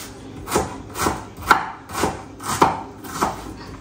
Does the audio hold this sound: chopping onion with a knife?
yes